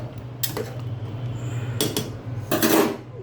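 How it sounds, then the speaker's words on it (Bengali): A spoon clinks and scrapes against a pressure cooker in a few separate bursts while ginger, garlic and cumin paste is stirred, with quiet pauses between the strokes. "আমি এটাকে এখন ভালো করে একটু নাড়া দিয়ে নেব"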